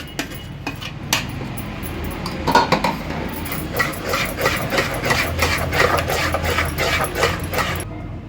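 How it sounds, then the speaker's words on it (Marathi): Ground batter whisked briskly in a metal pot, giving a steady run of quick scraping, tapping strokes against the sides, close and fairly loud throughout with no talk. "आता हे बारीक वाटलेलं बॅटर आपण ह्या पातेलात काढून घेणार आहोत आणि व्यवस्थित फेटून घ्यायचं आहे"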